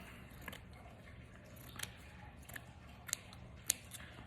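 Small scissors snip lace scraps close up: a handful of quiet, crisp cuts spaced irregularly over a soft hiss, with no talking.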